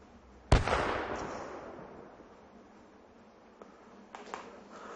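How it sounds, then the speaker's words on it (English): A single sharp blast in a video game booms out at some distance, then rumbles and fades slowly over several seconds, followed by a couple of fainter pops. "I could see the explosion before I heard it"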